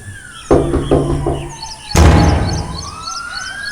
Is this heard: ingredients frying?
no